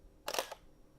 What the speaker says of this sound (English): you can speed it up real fast so that it goes